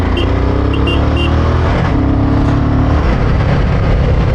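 Strong, close engine roar from a motorcycle accelerating hard to overtake on an Indian mountain road, with wind rush and rising rev tones blending into constant loud traffic noise.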